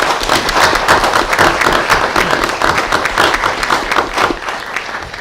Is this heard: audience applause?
yes